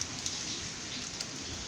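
Heavy rain from Cyclone Remal falls in Narayanganj, a steady dense hiss of drops on surfaces with a few louder spatters, continuous and close with no voices.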